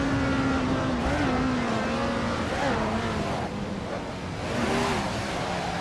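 A 1967 Tasman Series race car in Assetto Corsa, lapping Pukekohe with a high-torque engine that drones loud and steady, its pitch climbing and dipping through quick gear changes, with faint voice traces beneath.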